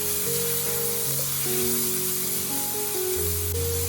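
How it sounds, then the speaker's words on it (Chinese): Minced pork and chopped garlic stir-fried in a pan over medium-low heat, a steady hiss and sizzle running the whole time beneath a bed of tonal background music. "炒香以后再把蒜末加进来，继续开中小火翻炒出香味。"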